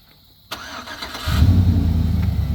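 A pickup truck is remote started: a sharp click, a short crank, then the engine catches and settles into a steady, close idle.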